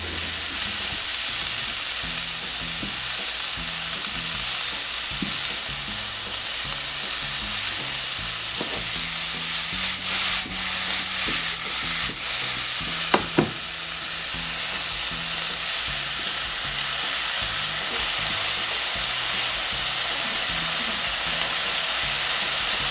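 Vegetables for spaghetti sizzle steadily in a frying pan while a utensil stirs and scrapes through them, with occasional clicks and clacks and no voices.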